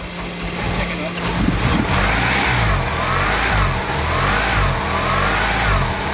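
A 1992 Hyundai Elantra with a swapped-in Mitsubishi 4G63 engine and 1.8 cams runs close by, its loud, rough idle rising and falling through repeated revs, with voices talking over it.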